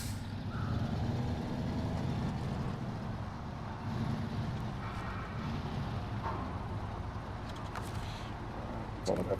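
A heavy truck in SnowRunner drives along with a low, steady engine rumble that stays moderate throughout, and faint talk sits underneath it.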